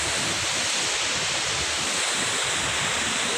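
A flood-swollen waterfall in Tagan Lano roars with rushing water, a dense, steady, loud wash of noise that fills the whole span without a break.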